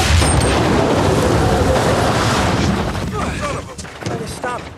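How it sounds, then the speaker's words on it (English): Gunfire and booms from a war film scene set in Iraq, heard as a dense, loud wash of shots and rumbling at a distance, while voices speak over the combat in the later part. "Be advised, we are taking inaccurate fire from the northeast."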